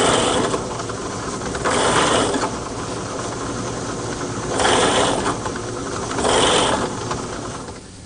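A plug cutter in a drill press plunges into scrap cypress, a steady motor whir rising into three louder grinding bursts as the cutter bites the wood, with no talking.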